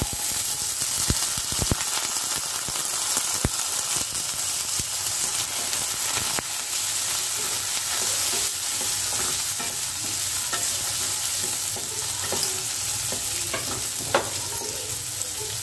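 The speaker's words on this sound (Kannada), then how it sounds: "ಇವಾಗ ಒಗ್ಗರಣೆ ಆಲ್ಮೋಸ್ಟ್ ಆಗಿದೆ. ಇವಾಗ ನಾನು ಬೇಯಿಸಿರೋ ಕಾಳುಗಳನ್ನು ಹಾಕಿದೆ." Boiled legumes go into hot tempering and sizzle loudly in the pan, with steady frying hiss and occasional stirring scrapes and clicks continuing throughout.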